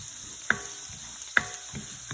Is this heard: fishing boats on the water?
no